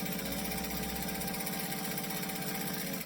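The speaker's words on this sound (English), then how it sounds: "So I'm just going to stitch all the way around this handle." A sewing machine runs steadily on a decorative stitch, sewing around a fabric handle made of several layers. Its motor hums with a constant close, even rhythm of the needle and no pauses or speech.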